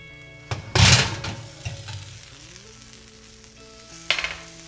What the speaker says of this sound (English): Our veggies should be ready, so we're gonna go ahead and take those out of the oven.